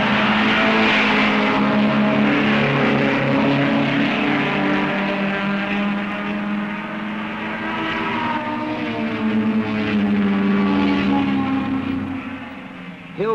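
A 1968 British Saloon Car Championship racing car accelerating hard in fourth gear and pulling into top along the back straight, its engine drone loud, steady and close throughout.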